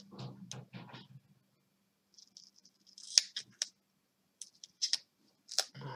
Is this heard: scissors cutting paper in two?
yes